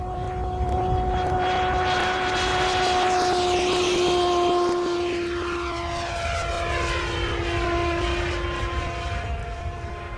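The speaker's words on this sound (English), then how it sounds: "To provide the propulsion, we use a multi-bladed propeller" Radio-controlled model aircraft engine spinning a multi-bladed propeller, a steady loud buzzing whine with strong harmonics that holds throughout, its pitch shifting slightly as it passes close by.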